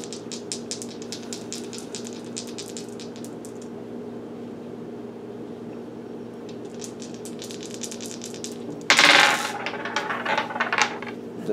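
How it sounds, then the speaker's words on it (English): Dice rattle during a tarot reading, a soft quick clicking that comes and goes, then a louder clattering tumble near the end, with no one talking. "The dice are going..."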